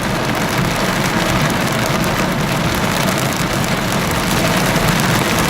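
Heavy rain and hail pound steadily on a surface at Dead Horse Point State Park in a dense, loud, unbroken roar with no voices.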